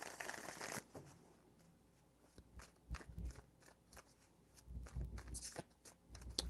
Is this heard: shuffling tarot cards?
yes